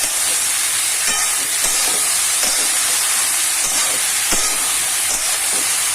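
Potatoes sizzle in a spoonful of ghee in a kadai, a steady loud hiss and crackle running without a break, with a few faint clicks on top.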